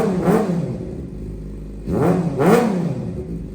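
A Suzuki GSX-R 600 motorcycle engine is revved in two bursts, one short rise early and a longer double surge later, with a rough idle between them, close and fairly loud.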